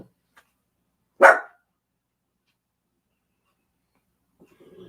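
A single sharp dog bark rings out nearby in an otherwise quiet room, followed by a faint murmur near the end.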